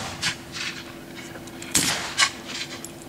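Distant musket shots from Civil War reenactor skirmishers, several scattered dull pops spread irregularly over a few seconds, faint and outdoors with a low background hum.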